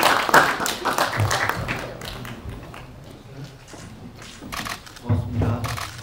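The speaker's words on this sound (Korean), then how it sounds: "큰 박수 부탁드릴게요" Applause from the audience at a press screening and press conference for the Korean film Heureuda, a dense patter of clapping with heavier bursts near the start and end.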